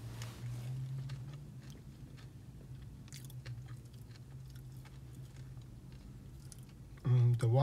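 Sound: chewing food from Panda Express

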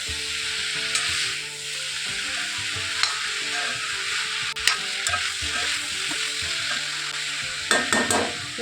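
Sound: stirring mixed vegetable sabzi frying in a pan

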